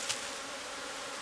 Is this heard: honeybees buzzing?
yes